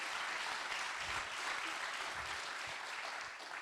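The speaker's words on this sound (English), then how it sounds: "Let's give him a round of applause." Audience applause fills a hall at a national grand final of a youth entrepreneurship pitch event, a steady, dense clapping that holds loud throughout and fades slightly at the end.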